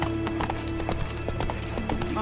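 Roach, Geralt's horse in The Witcher 3: Wild Hunt, gallops with rapid rhythmic hoof clip-clops close by, over steady game ambience with a brief whinny.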